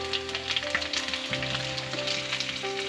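Curry leaves, raisins and asafoetida sautéing in hot oil for a curd rice lunch box recipe, giving a steady close crackling sizzle with a faint background tone, no talk.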